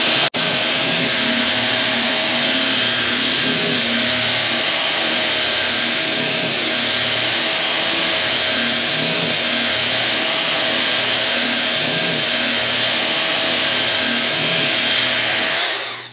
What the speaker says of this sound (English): Now we sand the verticals and we'll sand right off